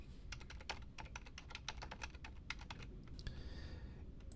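Rapid typing on a computer keyboard while entering FTP server settings, a quick, close, irregular run of crisp key clicks with brief pauses, heard alone.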